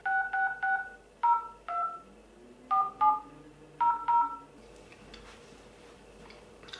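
A mobile phone keypad sounds a run of about ten clear two-tone DTMF beeps in irregular groups, close and distinct against a quiet room, followed by faint rustling and no talk.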